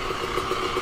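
A motor tricycle engine idles with a steady, even putter and a low pulsing beat, heard alone and close for just under a second.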